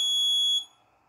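A homemade Raspberry Pi fingerprint voting machine's alarm buzzer emits a loud, shrill electronic tone that cuts off after about half a second, leaving quiet room tone.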